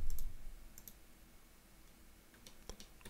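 Computer mouse clicks while dragging a clipping box in SketchUp: a few quiet, sharp clicks scattered across a near-silent room, with a pair early on and another near the end.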